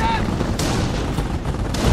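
Gunfire and explosions rake a base in Company of Heroes during a World War II Falaise Pocket battle, a loud, dense wall of shots and booms with sharper bursts standing out.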